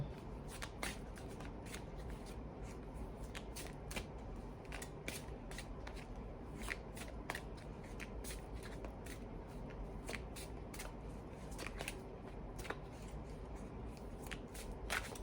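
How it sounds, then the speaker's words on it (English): Tarot cards are shuffled in a steady stream of soft riffling snaps with occasional sharper flicks, faint and close throughout with no talking. "Can I get 2 more cards for Capricorn?"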